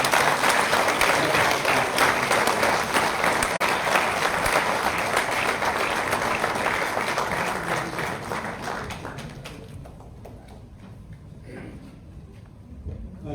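Crowd at an annual convocation applauding to welcome the chief guest: loud, dense clapping from a large hall that holds steady, then fades over the last few seconds into faint scattered claps.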